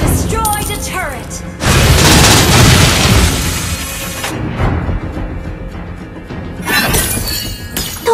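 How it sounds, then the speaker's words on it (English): A turret destroyed in the mobile battle game Mobile Legends, a loud shattering crash with booming debris that rings for a couple of seconds under game effects and an announcer voice. "Your team destroyed a turret!"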